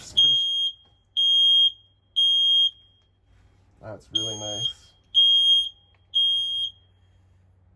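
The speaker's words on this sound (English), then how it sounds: "Smoke detector here, so there we go, that guy works." A smoke alarm in a 2017 R-Pod 179 travel trailer sounds in sharp, high beeps, three in a row, then a pause with a brief voice and rustle, then three more loud beeps.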